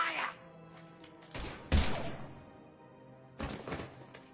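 Gunfire in a PS4 video game: a few short bursts of shots stand out against quiet game ambience, with a sharp thump near the middle and another flurry near the end.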